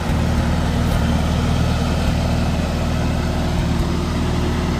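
A Farmall Super C tractor engine idling close by, with a steady low rumble that runs unbroken at a constant loud level and no voices.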